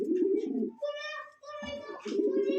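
A pair of English Morassel pigeons gives low cooing bursts, close and fairly loud, broken by higher tonal harmonic calls that sound voice-like, with a brief gap in the middle.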